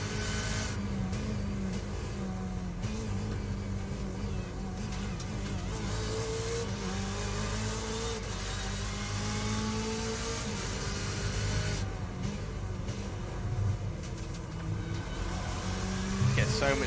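A BMW M8 GTE race car drones and shifts down through the gears on the Oulton Park circuit, its engine note rising and falling steadily under a commentator's excited talk.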